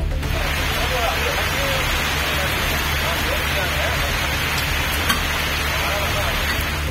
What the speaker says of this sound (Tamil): திருவாரூர் மாவட்டத்தில் விடிய விடிய கனமழை பெய்தது.